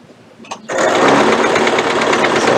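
A Singer Prelude portable sewing machine stitching at a short 1.5 stitch length, with a brief click, then the motor starts and runs in a fast, loud, even whir close by, with no talk.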